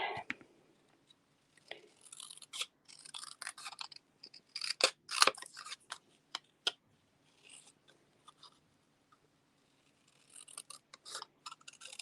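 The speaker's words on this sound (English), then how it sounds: "And then you're just going to cut these." Scissors cut paper by hand for a Christmas card craft project, a close, quiet series of crisp snips coming in short bursts separated by pauses.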